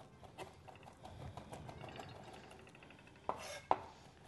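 A kitchen knife finely mincing garlic on a board for a salad, giving soft, quick chopping taps at a steady rhythm, with two sharper, louder knocks near the end.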